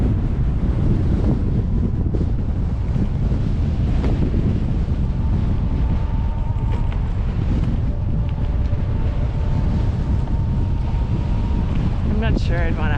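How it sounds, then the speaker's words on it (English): Strong wind buffeting the microphone on an e-bike ride outdoors in winter, a loud continuous low rumble with gusty surges throughout and no clear talk over it. "oh, windy."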